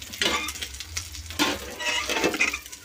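Food frying in a pan during home cooking of chicken dishes, with soft crackling sizzle and intermittent stirring scrapes and utensil clinks, moderately near.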